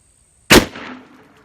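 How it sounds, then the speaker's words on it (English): A single-shot break-open 12 gauge shotgun fires one light target load, number 8 shot, outdoors: one sharp, loud, close report with a short decaying tail, and no other sound around it. "Single shot 12 gauge. Light target load going in."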